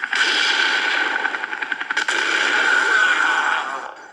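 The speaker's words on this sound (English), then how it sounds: "There was a bit of a delay between the tank shooting and that blowing up" Tank-firing and explosion sound effects added to a home movie come as a loud rattling burst, then a sharp crack followed by a sustained roaring rumble that fades out.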